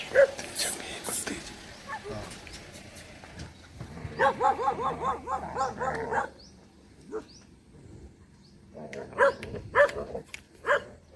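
A bully dog barks in short, close bursts between stretches of people talking nearby, with clusters of yips and barks around the start, middle and end.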